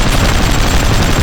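Rapid, dense, loud gunfire blasts away at a boss's parts in Hard Truck Apocalypse, a continuous close barrage filling the short burst.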